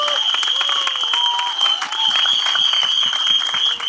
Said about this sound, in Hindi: दोनों के लिए एक बार जोरदार तालियां हो जाएं for the director Duo, ladies and gentleman.